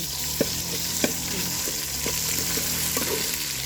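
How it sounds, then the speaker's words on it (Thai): Thai curry paste stir-fried in oil in a pan, a steady close sizzle with a few sharp scrapes of the spatula against the metal and no voices. "ผัดให้มันสุกก่อนเนาะ หอมหอม หอมเครื่องแกงมากเลย"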